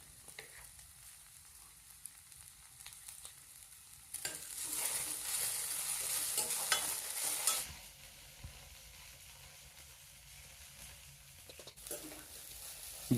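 Okra frying in oil with chillies and garlic, a soft sizzle that flares into a loud hiss for a few seconds as the pan is stirred, then settles back to a quiet crackle.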